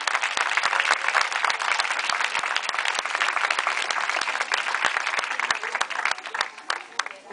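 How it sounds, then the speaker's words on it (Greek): Sustained applause from a crowd at a Greek choral concert, steady dense clapping that continues for several seconds and tapers slightly at the end. "να πείτε ένα μεγάλο χειροκρότημα"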